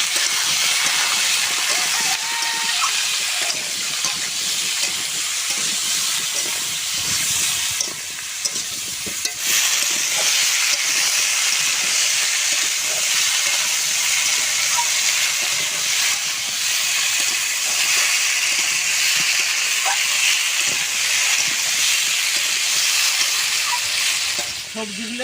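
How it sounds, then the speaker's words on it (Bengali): Vegetables with green chilli, salt and turmeric frying for a Malabar spinach recipe, a loud, steady sizzle and hiss with occasional stirring scrapes running unbroken close up. "সবজিগুলো ঢেলে দেব, লবণ, হলুদ গুঁড়ো সুন্দর করে ভেজে নেব।"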